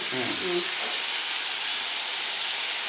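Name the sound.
chili powder sizzling in hot oil for beetroot pickle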